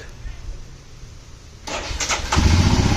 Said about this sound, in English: Let's start the bike.